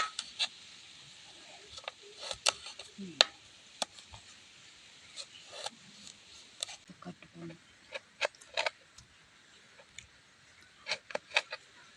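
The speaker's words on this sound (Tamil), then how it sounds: "இது மாதிரி சின்ன சின்னதாக கட்டு பண்ணி எடுத்துக்கலாம்" A knife chops bottle gourd into small pieces, giving irregular, crisp taps and clicks while a voice talks quietly in the background.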